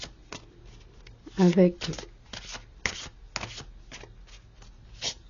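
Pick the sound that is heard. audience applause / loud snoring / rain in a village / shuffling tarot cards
shuffling tarot cards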